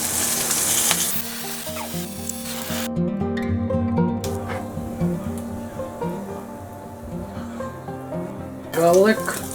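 Tofu frying on high heat for a Mexican-style vegan sofritas, a steady close sizzle with stirring and utensil clatter, broken by a brief quieter gap, with faint background voices.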